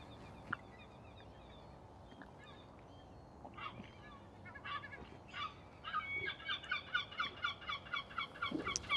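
A flock of birds calling outdoors, starting with scattered faint cries that build into a dense run of loud, rhythmic honking and gobbling calls toward the end, with no talk over them.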